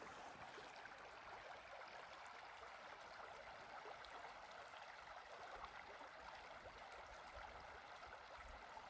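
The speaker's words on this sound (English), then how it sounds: "There's no sound out here except the creek." An outdoor creek flows at a remote memorial site, its water making a steady, soft broadband rush that stays even and quiet throughout with no other sounds.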